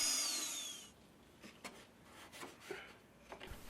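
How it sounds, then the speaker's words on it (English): A power cutting tool shears down overly long securing bolts on a Hangar 9 Pawnee Brave towplane model. A loud, shrill grinding whine lasts about a second, then dies away into faint scattered clicks and handling taps. "I'm cutting down the securing bolts as they're crazy long"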